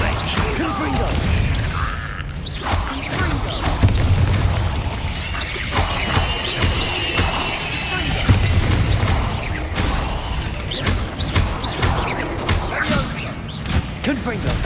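Confringo fire-blast spells explode in Hogwarts Legacy combat, giving loud booms, thuds and crashing impacts spread across the stretch, with clattering debris and brief shouted voices in between.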